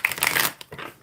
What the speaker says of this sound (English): I cannot shuffle these cards for anything.